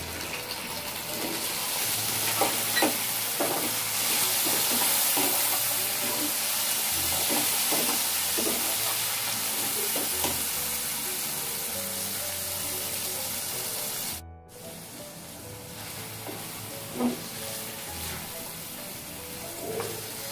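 Chopped tomato tipped into reddened fried onions for a potato and cauliflower curry, sizzling steadily in the pan with scraping stir strokes throughout, a brief cut near the middle before the frying resumes.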